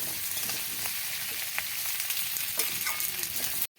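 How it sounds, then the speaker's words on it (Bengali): Potatoes fry in oil for a vegetable chorchori, giving a steady crackling sizzle with light stirring clicks before the sound cuts off abruptly near the end. "আলুটা ভাজা ভাজা হয়ে এসেছে"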